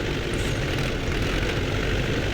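T-40 tractor engine in Farming Simulator 17, a steady, droning engine hum that runs unbroken and fairly quiet throughout, with no talk over it.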